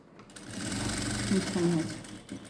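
A sewing machine stitches along the edge of a garment neckline, running steadily and fairly close for about two seconds before slowing and stopping.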